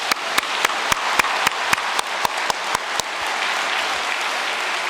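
Congregation applause at a New Year's Day prayer service, a spread of individual sharp claps that soon merges into a dense, steady roar of clapping held at fairly close range with no talk.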